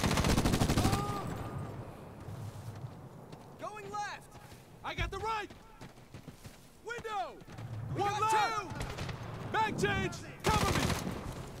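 Gunfire in the video game Medal of Honor (2010), scattered bursts of shots near and far mixed with game sounds, while someone talks over much of it.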